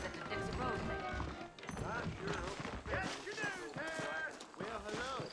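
Horse hooves clip-clop in the Red Dead Redemption game, set among saddled horses in New Orleans, a steady patter of steps running under almost continuous talk.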